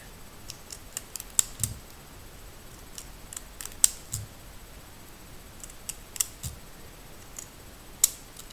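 Decorative-edge scissors snip through paper in a series of crisp, quiet clicks at irregular intervals, with soft rustling between cuts.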